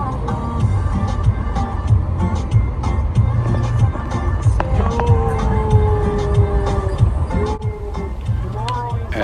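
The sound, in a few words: car ride along city main street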